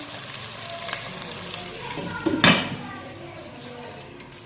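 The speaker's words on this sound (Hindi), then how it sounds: "चिकन फ्राई हो गया," Chicken fries in hot oil in a pot for biryani, giving a steady, moderate sizzle broken by one brief clatter of a utensil stirring against the metal.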